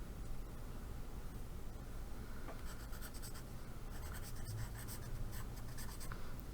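Pencil scratching across paper in close, steady strokes, a continuous soft scritching with brief sharper accents, heard alone over a faint hiss.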